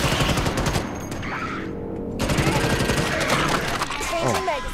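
Rapid gunfire in the video game Starship Troopers Extermination, dense bursts of shots crackling through a busy battle mix with a brief lull in the middle, under speech.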